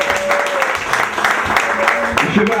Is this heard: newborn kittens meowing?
no